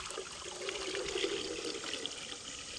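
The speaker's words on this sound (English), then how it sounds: "So here we're going to start out with putting our water in." Hot water pours into the tank of a Megahome water distiller, a steady close splashing and trickling stream lasting a few seconds, with no talk.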